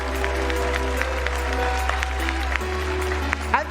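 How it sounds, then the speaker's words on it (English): A large crowd at a TwitchCon cosplay contest applauds the needlework finalists, with steady clapping mixed with hall music and a sustained hum, plus a few sharp cheers near the end. "Please give them a huge round of applause."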